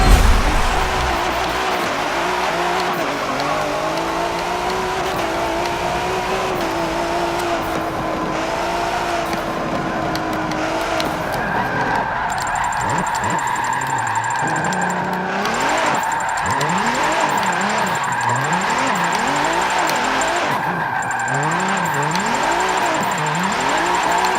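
A turbocharged 2017 Ford GT drifts in Forza 7, its engine droning loud and steady and then rising and falling in repeated revs, with tire squeal layered over it.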